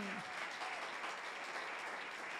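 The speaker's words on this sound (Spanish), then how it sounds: "un aplauso para los del sonido que están atentos a todo ahí" Continuous applause from a church congregation, dense, steady clapping with no breaks, heard from a slight distance.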